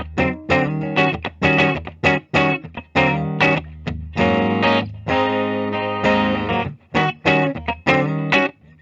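A 2001 Gibson Angus Young Signature SG electric guitar with both pickups combined plays a loud, driven rhythmic riff of choppy chords and sustained notes, alone and up close.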